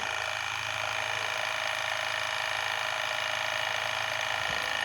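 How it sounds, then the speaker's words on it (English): A steady, buzzing mechanical hum with a fast pulsing rattle runs throughout as a Waterpik Aquarius water flosser pumps its spray, close and unchanging. "we will go ahead and see the pumping operation, the spraying operation rather"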